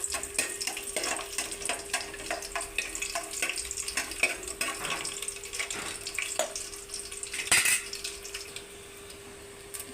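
Garlic frying in hot oil for sambar: a soft continuous sizzle with light stirring clinks and scrapes, plus one louder clatter near the end, with no talking.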